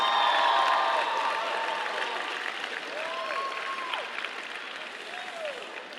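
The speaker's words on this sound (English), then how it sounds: "could you please give your parents a round of applause for thanks?" Students at a Gulliver Prep Upper School commencement ceremony give their parents a round of applause, a steady, fairly distant clapping that gradually thins, with light crowd murmur and a brief voice beneath.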